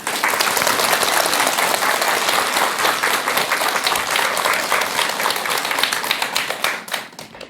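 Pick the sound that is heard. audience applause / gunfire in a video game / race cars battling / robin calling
audience applause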